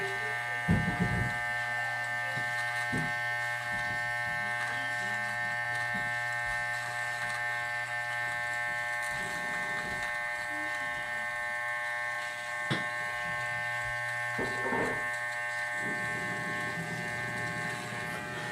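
An electric hair clipper hums steadily and close by throughout a men's self haircut on the sides of the head, with a constant buzzing tone and occasional brief shifts as it moves through hair.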